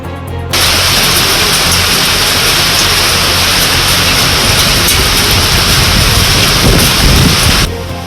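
Heavy monsoon rain during the Kerala floods pours in a dense, loud, continuous roar of broadband hiss, steady from start to finish with a low rumbling undertone, then cuts off abruptly.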